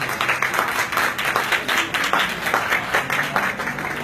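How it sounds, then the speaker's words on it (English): Group of people clapping inside a Microsoft store during a product demo of pads, with dense overlapping claps at a steady moderate level for several seconds and some crowd noise underneath. "Can we get a hand clap for absorption system?"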